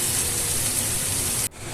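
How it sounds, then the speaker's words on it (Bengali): Water poured from a rinsed bowl into a pan of frying spice paste for egg kosa, giving a steady close hiss and sizzle that cuts off abruptly near the end. "বাটিটা ধুয়ে আমি জল দিয়ে দিচ্ছি।"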